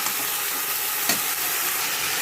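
Salt, turmeric and chili frying in the oil left from frying fish, a steady broadband sizzle throughout with one brief stirring scrape near the middle.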